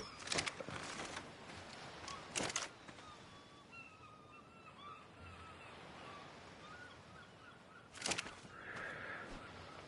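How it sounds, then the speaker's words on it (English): Birds caw in Ark: Survival Evolved, a few faint drawn-out calls drifting in the middle distance over a steady ambient wash, broken by several sharp loud bursts. "Let me get rid of these fucking birds"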